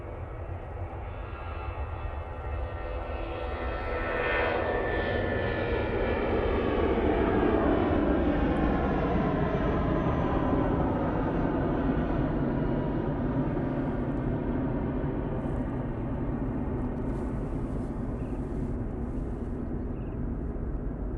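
Airliner taking off from the runway at Manchester Airport, a swelling roar of engines that builds, peaks near the middle and holds loud and steady as the plane climbs away, no voices.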